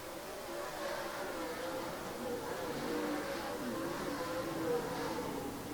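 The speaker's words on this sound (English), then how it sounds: "Heckenus Jr. going to pull away 2 car lengths down the back straightaway" Dirt late model race cars circle the track at Farmer City Raceway in 2017, a continuous distant droning engine roar with steady buzzing and little variation throughout.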